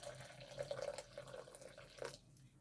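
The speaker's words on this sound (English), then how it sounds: "I'm just going to put some of the water in there." Warm water trickles and splashes onto four ceramic pieces in a sink, a soft, close running pour of about two seconds that then fades off.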